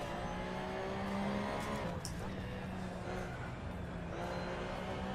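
A race car engine in the racing game Assetto Corsa drones quietly and steadily, a faint continuous hum with a little tire and road noise beneath it.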